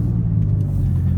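A 500hp BMW M4 rolls along bumpy local back roads, its engine a steady low rumble with dense road and tyre noise that stays constant and close throughout.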